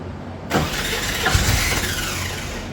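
A VW Bay Window bus engine cranks and catches at about half a second, then settles into a steady mid-pitched idle, close by, with no talking.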